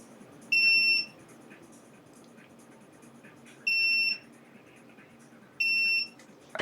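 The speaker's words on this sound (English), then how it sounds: "a continuity tester." A continuity tester's high electronic beep sounds three times at regular intervals, each lasting about half a second, over quiet background hiss.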